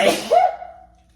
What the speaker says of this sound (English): You sneezed in everybody's ear.